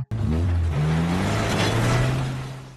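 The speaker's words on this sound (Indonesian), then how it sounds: "Leonie menarik besi tersebut menggunakan sebuah mobil" A car straining as it drags a heavy iron tower beam, its engine rising in pitch with revving tones, loud and close, with a scraping, grinding wash over the top.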